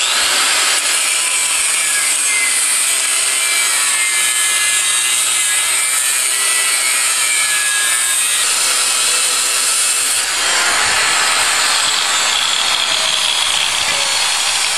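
A doubled steel spring is sawn through at an angle with a power tool, giving a loud, continuous harsh grinding rasp that runs steadily for the whole stretch and shifts slightly partway through.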